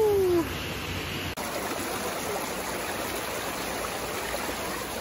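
San Roque Waterfalls in Claveria, a steady broadband rush of falling water heard close and continuous, with a brief dip partway through.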